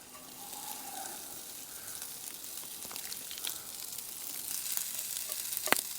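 Brown and wild rice frying with bacon in a pan at a camp breakfast, a steady close sizzle with occasional crackles and stirring scrapes, no voices.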